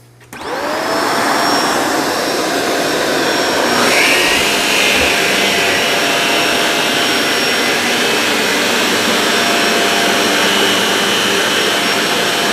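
A Shark Navigator Lift-Away vacuum cleaner starts up and runs on a rug, a loud close whine that quickly rises to a steady roar and shifts pitch slightly partway through, with no talking.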